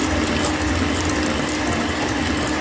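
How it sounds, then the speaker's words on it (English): Butter and sugar being creamed for a date and walnut cake, heard as a steady, close mechanical whirring with a gear-like rattle that runs unbroken throughout. "we are creaming the butter till it is light and fluffy"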